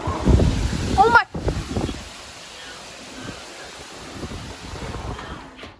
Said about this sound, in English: Honestly, it's very windy down there.